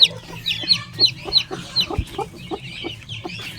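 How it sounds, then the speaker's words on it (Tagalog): A brooding hen with six small chicks: the chicks give high, repeated peeps in a steady stream, and the hen adds soft, low clucks close by. "ito po ang mga sisiw niya"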